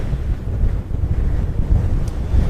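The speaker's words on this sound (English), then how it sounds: "Oh, Wyoming. It's always windy." Strong wind buffeting the microphone at a dinosaur dig site in Wyoming, a loud, continuous low rumble with gusty swells and no voices.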